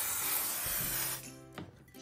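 Spray baste adhesive hisses from an aerosol can onto quilt batting in one steady, close burst lasting about a second, then stops, leaving faint handling noises.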